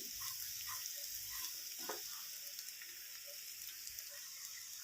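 Taro (chamadumpa) curry with freshly ground chilli paste fries in a pan. It gives a steady, fairly quiet sizzle with light crackles throughout.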